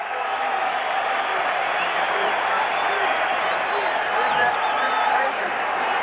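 A roaring stadium crowd at a 1996 Monday Night Football game keeps up a dense, steady wall of noise from start to finish, with a commentator's voice faintly under it.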